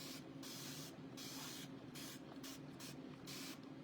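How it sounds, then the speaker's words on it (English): A spray bottle mists water onto a microfiber cloth in quick repeated bursts, about six close, crisp hissing sprays separated by short gaps, alone without speech. "So I'm going to spray this with some water."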